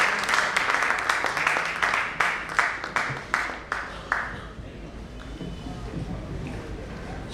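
Audience applause at a business knowledge seminar panel welcoming finance speaker Sanjay Mehta, a dense steady roar of many hands clapping for about four seconds before thinning out into faint room murmur.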